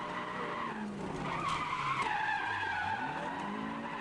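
A car drifts with tires skidding and squealing on a mountain road, a continuous rising and falling screech close by over engine noise, without talk.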